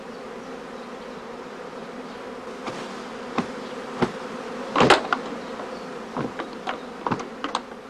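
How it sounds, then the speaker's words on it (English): Honeybee prime swarms in a heather skep apiary give a steady, soft insect hum, with a few louder buzzing passes of single bees flying close by. "During the course of each swarming day, the prime swarms are packed in travelling boxes."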